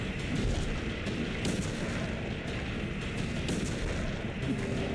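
Rifle shots in the survival horror game Silent Hill 2 on PS2, fired repeatedly in a dense, continuous barrage of loud booming gunfire that fills the whole stretch without pause.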